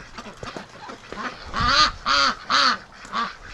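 Ducks on a breeding farm quack in a loud, close run of four or five hoarse calls, preceded by quieter scuffling and softer calls in the pen.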